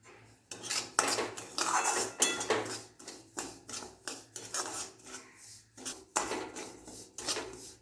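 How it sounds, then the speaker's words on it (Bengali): A metal spoon scrapes and clinks against a pan while semolina fries slowly over a low gas flame, producing rhythmic stirring strokes with soft rasping between the knocks, close and fairly quiet. "অনেকক্ষণ ধরে এটা নাড়াচাড়া করলাম"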